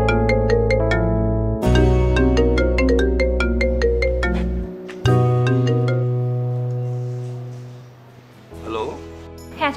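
A mobile phone plays a melodic ringtone of sustained tones with a bright chiming arpeggio, loud and close, repeating after a pause before fading, with a voice over its tail during a telefilm scene.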